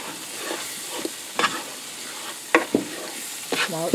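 Flour stirred into sautéing vegetables in a Cosori multi-cooker for chicken tortilla soup, a steady sizzle under repeated scraping strokes of a spoon against the pot, close and fairly loud.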